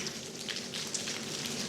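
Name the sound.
audience finger-clapping imitating rain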